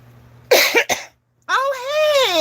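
A person gives two or three harsh, close coughs in quick succession, then after a brief pause starts talking.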